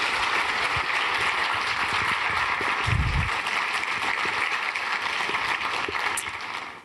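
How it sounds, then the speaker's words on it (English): Steady, dense audience applause fills a hall at a TEDx talk, sustained for several seconds before fading at the end, with no speech over it. "please give a round of applause for Dr. Anika Prather."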